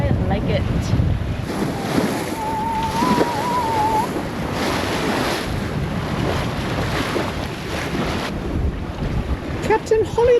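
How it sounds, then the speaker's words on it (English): Strong wind buffets the microphone over steady waves and water rush as a sailboat heads along the coast near Port Douglas, a continuous loud roar with a brief whistling tone and faint voices near the end. "It's very windy."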